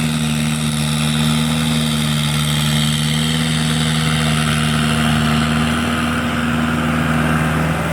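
A large farm tractor runs in a rice field, its engine a loud, steady droning hum held close and alone throughout.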